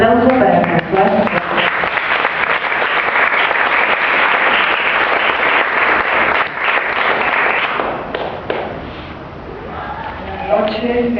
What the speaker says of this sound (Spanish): un aplauso para Françoise